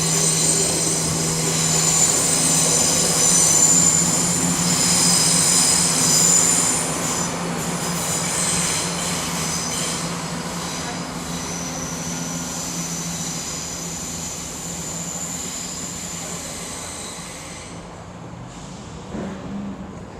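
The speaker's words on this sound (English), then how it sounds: "1742 cross country service to Leicester." A CrossCountry passenger train to Leicester runs past at Nuneaton, making a loud, steady rolling rumble with high wheel whine that slowly fades over about twenty seconds, with no talking.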